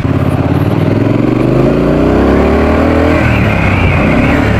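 A loud motorcycle exhaust revs and roars continuously, the engine pitch climbing and then settling into a rough, throaty rumble.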